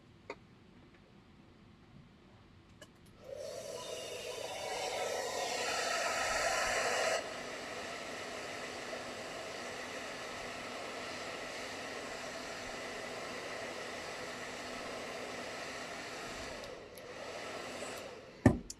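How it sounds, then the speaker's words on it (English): Hair dryer blowing on wet acrylic paint, switching on after a short quiet start and running as a steady broadband rushing hiss, louder for a few seconds then settling to a constant level before clicking off near the end. "I'm going to give it a little blow dry."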